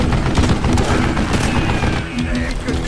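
A mounted gun in Call of Juarez Gunslinger keeps firing in a loud continuous barrage of booming shots, with a voice underneath.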